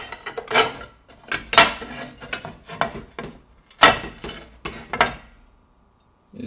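A knife scrapes stuck-on material off a Tefal Easy Clean+ nonstick frying pan in a series of sharp, close, gritty strokes with short pauses between them, ending in quiet.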